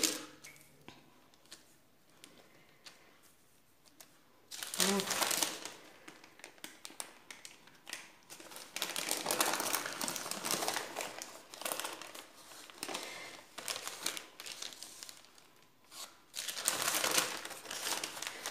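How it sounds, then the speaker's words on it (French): Baking paper crinkles and crackles loudly in bursts while a bûche de Noël sponge with ganache is rolled up, with quieter pauses between the rustling handfuls and no talk. "faudra la rouler avec le papier, ça va aider."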